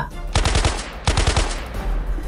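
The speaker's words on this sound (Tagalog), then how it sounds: "pumuputok-putok din ito sa hawak niyang baril" Handheld gun fired in a story sound effect, two quick bursts of rapid shots, about four cracks each, loud and close, separated by a short pause over a steady noisy background.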